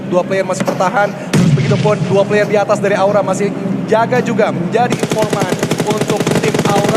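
Gunfire in a PUBG Mobile esports match, rapid rattling bursts under continuous fast commentary, turning into a dense, loud stream of shots near the end.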